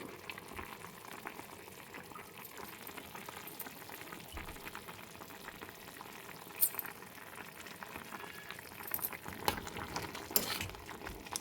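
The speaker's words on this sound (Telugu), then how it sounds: "దీన్ని కొంచెం నూనె, పసుపు వేసి ఉడికించుకోవాలండి" Raw banana pieces cooking gently in a pan with a little oil and turmeric, a steady low bubbling and simmering hiss with occasional faint clinks of stirring, no voices.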